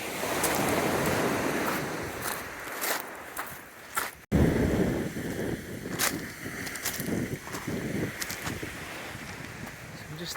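Steady roar of ocean surf washing in nearby where a creek meets the ocean on the West Coast Trail, with gusts of wind buffeting the microphone throughout.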